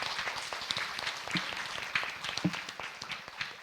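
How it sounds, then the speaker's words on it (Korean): An audience claps after a presentation at a talk event, with fairly quiet, scattered but continuous applause from a modest crowd, with a few louder claps standing out. "큰 박수"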